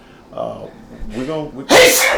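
A short vocal buildup leads into one loud, sharp sneeze burst at close range, preceded by brief voiced breaths.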